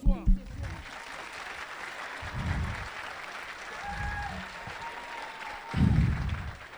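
A comedy club audience at a stand-up show bursts into applause and cheering in several waves, the clapping swelling, fading and swelling again while the comedian talks between the rounds.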